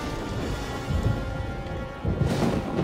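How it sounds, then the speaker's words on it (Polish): A hailstorm spell cast in the video game Gothic 3 brings a dense, steady roar of hail and rain with deep thunder rumbles swelling beneath it, loud and continuous, with no talking. "Burza gradowa."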